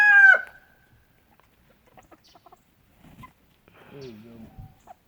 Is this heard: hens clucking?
yes